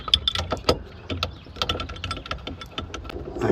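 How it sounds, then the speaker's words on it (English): Bolts are screwed into a steering wheel puller on a 1988 Chevy truck steering column, giving a run of close, sharp metallic clicks and ratcheting ticks in an irregular rhythm. "Start screwing in one of these bolts."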